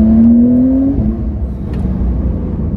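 A Porsche 992 Carrera 4S revs hard in second gear toward 4000 rpm, its engine note rising loud and close, then easing off into a lower rumble.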